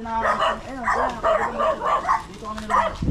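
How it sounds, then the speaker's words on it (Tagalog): Several dogs bark in quick, repeated bursts close by, yappy and overlapping, with a whimpering tone between barks. "Daming aso."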